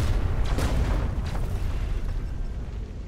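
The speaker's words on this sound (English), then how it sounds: "Random explosions, always a standard thing on a spaceship." Booming explosions aboard a spaceship in the video game Rogue Trader, a dense, continuous low rumble with a few sharper bursts in the first second, loud and sustained without talk.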